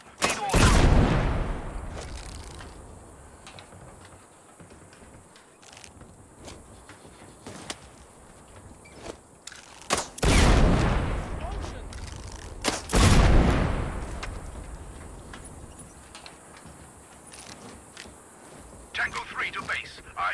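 Loud explosions and bursts of gunfire in a military stealth video game, heavy booms around the start and near ten and thirteen seconds, with scattered shots and radio-style voices talking between them.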